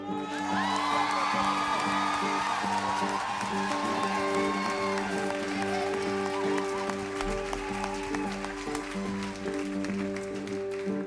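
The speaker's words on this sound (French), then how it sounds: "on peut applaudir plus fort" A youth worship gathering in a church erupts in sustained applause mixed with whoops and crowd cheering, dense and continuous, over sustained musical tones from instruments.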